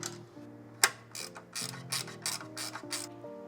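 Ratchet wrench clicking rapidly in short bursts while tightening bolts on a 2025 Revel Bed Riser Pro assembly, close and crisp with one sharper metallic clack early on.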